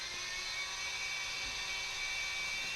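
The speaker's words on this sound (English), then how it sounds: "Now drilling some breather holes." A drill bores breather holes in a bicycle frame tube, giving a steady high-pitched whir that holds evenly throughout, fairly quiet, with no talking.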